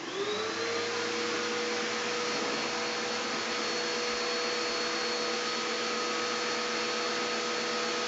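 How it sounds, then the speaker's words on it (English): A vacuum cleaner runs inside an RV, giving a steady, continuous whine with a rising start at the beginning, heard alone with no talking. "I'm gonna turn the vacuum cleaner on."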